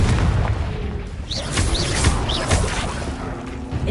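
A Confringo blasting spell bursts in Hogwarts Legacy on PS5, producing deep rumbling booms layered with whooshing, chirpy magical effects in a dense, continuous stretch of game audio.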